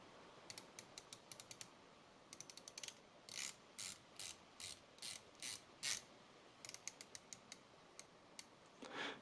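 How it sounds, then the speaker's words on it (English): Ceramic unidirectional bezel of a Revelot GMT watch being turned, giving crisp, precise ratcheting clicks in quick runs and spaced single clicks, close up and alone. "Very precise clicks, very easy to grip, but too loose for my taste."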